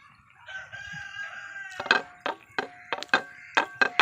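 Outdoors, a rooster crows close by while a chicken clucks in short, sharp bursts, several rapid calls following the crow.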